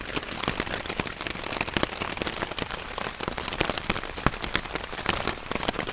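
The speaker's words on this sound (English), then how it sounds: "It's raining pretty heavy" Heavy rain drums steadily on a tent overhead, a dense close patter of drops with sharper taps scattered throughout.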